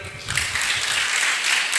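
Church congregation at a Sunday service clapping together after a song, a broad, dense wash of applause sustained for a couple of seconds.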